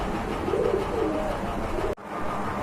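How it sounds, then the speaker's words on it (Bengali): Pigeons kept for sale coo in low, continuous murmuring phrases close by, ending with a sudden sharp click before quieter cooing resumes. "হান্ড্রেড পার্সেন্ট কোয়ালিটি ফুল পছন্দ হওয়ার মতো এক জোড়া কবুতর"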